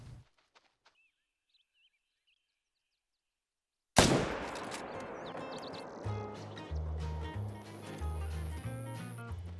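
A single hunting rifle shot fired at a puma in the game theHunter: Call of the Wild, a sudden loud crack after near silence, followed by game music with a steady low beat.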